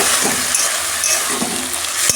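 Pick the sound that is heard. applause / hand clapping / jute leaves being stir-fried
jute leaves being stir-fried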